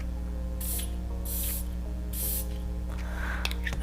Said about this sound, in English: Check this atomizer out.